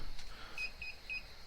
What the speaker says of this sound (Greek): ακούγεται ένα beep beep beep